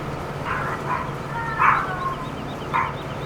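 A dog in the video game Farming Simulator barks a few times at moderate distance, short spaced yips over a steady low engine-like hum.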